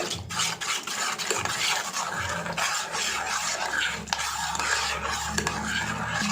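A spoon stirs almond mix into hot milk in a pan while kulfi is being made, giving a steady, close scraping and swirling that runs continuously with no speech.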